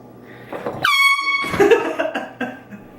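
A loud air horn blast from a prank goes off abruptly and holds for about half a second, then cuts into shouting and excited voices reacting over it, with another brief burst amid the commotion.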